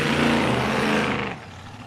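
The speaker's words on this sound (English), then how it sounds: "This thing is powered by a Brett Nidry race engine." Race car with a Brett Nidry race engine at a Sunraysia speedway meeting, a loud steady engine roar that holds for over a second and then drops away to a quieter, more distant rumble.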